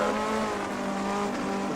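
Tyres squeal as a 1958 Formula One car slides wide at Spa in a historic racing game, a sustained tonal screech over the engine note lasting under two seconds.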